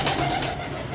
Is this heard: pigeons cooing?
yes